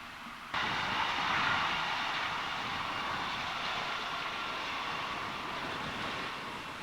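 Train running out of Gledholt Tunnel and across the stone viaduct at Milnsbridge near Huddersfield, heard as a steady, fairly loud rumble with a broad rushing roar that starts abruptly and holds throughout.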